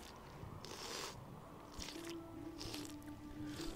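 Drinking from untirradiated water in Fallout: New Vegas, a series of wet slurping gulps in short bursts roughly every second, fairly close, with no talk.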